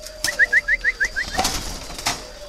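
Breeding spotted doves make a quick run of about seven rhythmic coos close by, followed by a few soft rustles and taps in an otherwise quiet space.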